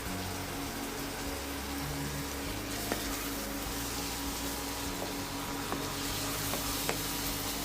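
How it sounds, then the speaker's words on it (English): Steady frying sizzle of masala browning in a pan for matar paneer, continuous and close, with a few faint clicks of a spatula scraping or stirring. "keep frying it until the masala gets really nice and brown"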